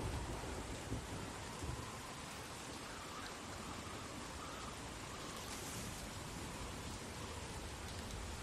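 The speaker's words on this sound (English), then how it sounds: "Dude, I love the rain." Steady rain in The Walking Dead video game, a dense continuous hiss of rainfall with low rumbling thunder underneath, even and unbroken throughout with no talking.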